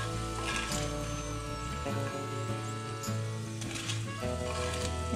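Potatoes frying in oil in a cast iron pan inside a truck camper, a soft steady sizzle over a low humming background that stays even throughout, with no one talking.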